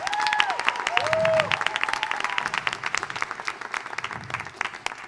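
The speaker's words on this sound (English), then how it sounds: "Please give her a round of applause." Audience applause at a high school fall choir concert, a crowd clapping steadily with a few whoops and voices over it, gradually thinning out.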